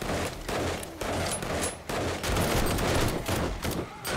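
Bursts of automatic gunfire from a teammate shooting zombies in 7 Days to Die, several rapid volleys separated by short gaps, fairly close and loud, with no talking.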